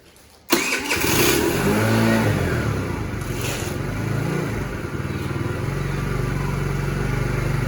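A Taotao 50cc scooter engine starts abruptly, then runs steadily close by, its idle wavering low with a few light blips of revving before settling into a continuous rough hum.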